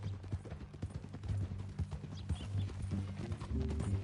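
Horse hooves clip-clop at a steady walking pace in Red Dead Redemption 2, close and fairly loud over a low ambient hum, with an occasional faint snort and no voices.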